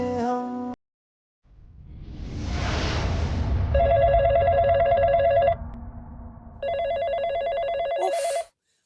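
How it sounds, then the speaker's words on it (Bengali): A landline telephone bell rings in two long bursts, loud and close, after a swell of background music, with a short gap between the rings. "উফ, ফোনটা ধরার কেউ নেই, আশ্চর্য।"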